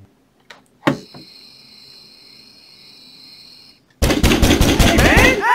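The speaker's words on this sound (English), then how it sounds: "Who banging at the door like that?" After a quiet stretch with a faint high whine and one sharp knock, someone pounds loudly on a door in a fast, heavy volley of close, hard bangs that continues to the end.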